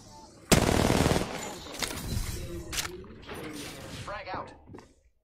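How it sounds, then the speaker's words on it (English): Automatic gunfire in a battle royale video game rattles in a loud sustained burst, then further shots and game effects trail off, with a voice talking over it. "Shots fired. And they're hitting me."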